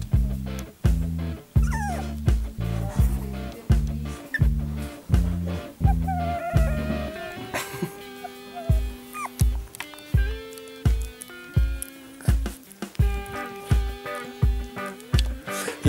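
Young puppies whimper and yip in thin, rising cries over a loud thumping beat of background music.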